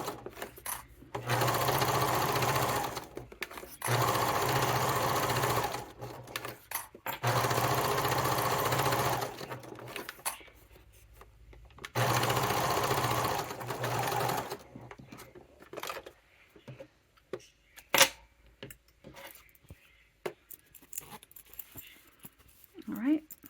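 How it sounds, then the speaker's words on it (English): A sewing machine bastes with a long stitch about 1/8 inch from the edge of a Scotia Satchel bag panel, running in four steady whirring bursts separated by pauses, then falling quiet into light handling clicks and rustles. "And I'm basting about 1/8 of an inch away from the edge."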